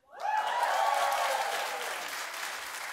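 A studio audience bursts into loud clapping and cheering at a talk show, starting sharply and holding strong, with faint whoops early on and gradually easing.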